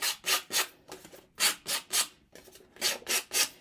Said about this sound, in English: I am going to quickly take my nail file to these pieces